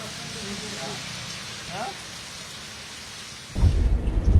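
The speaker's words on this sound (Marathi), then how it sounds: "मुंबईमध्ये सकाळपासून जोरदार पाऊस होतो" Heavy rain in Mumbai's Mantralaya area hisses throughout, with faint background voices early on, then a loud burst of thunder rumbles in near the end.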